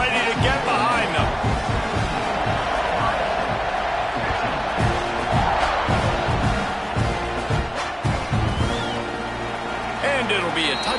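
A stadium crowd in an American football video game roars and cheers continuously at a kickoff after an extra point, a broad steady wash of noise under a commentator's voice.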